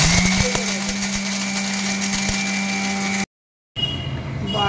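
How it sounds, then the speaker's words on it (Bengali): Roasted peanuts and sesame seeds, dry-fried beforehand, are ground in an electric kitchen grinder: a steady loud motor whir for about three seconds, a brief stop, then a second short burst. "ওদিকে আমি এই যে বাদাম আর তিলটা ভেজে রেখেছিলাম শুকনো খোলায়, এটাকে আমি বেটে নেব"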